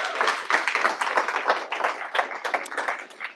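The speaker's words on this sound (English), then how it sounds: "could I get a round of applause for Simon," A tech meetup crowd at a React Native event in San Francisco gives a round of applause for a speaker, a close, lively patter of many hands clapping steadily with individual claps distinct, no voices over it.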